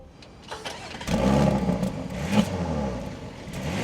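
A 2026 Audi SQ5 Premium Plus engine cranks and fires up, surging into a loud, steady rumble that holds strong through to the end with a brief swell partway through.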